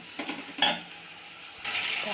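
Ginger-garlic paste hits hot oil in a wok with dried chillies and chopped onion, giving brief bursts of sizzling and a stirring clatter with quieter gaps between, close and fairly soft.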